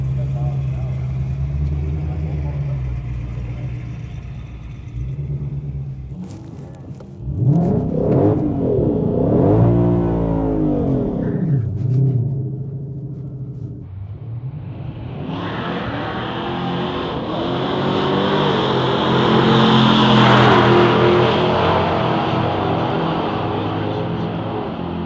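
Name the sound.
Shelby GT500 Mustangs drag racing down the quarter mile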